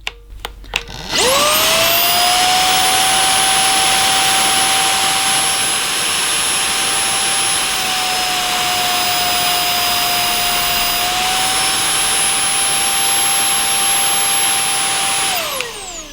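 An Amazon Basics cordless vacuum cleaner switches on close by and runs steadily with a loud, high whine and airy rush, shifting slightly in pitch between settings before shutting off.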